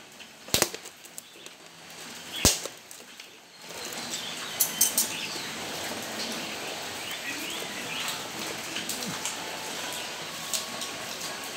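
A caged bird flaps its wings in short bursts, with two sharp knocks near the start and a steady rustling, fluttering background after that, all at close range.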